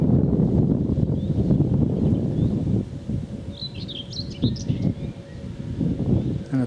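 An unidentified bird sings a short burst of high chirps and trills partway through, fairly faint above rustling, footsteps and wind on a countryside walk up into a golf course.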